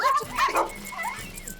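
A cartoon dog yips, barks and whimpers in short, excited bursts, close and fairly loud, mixed with voiced cartoon sounds.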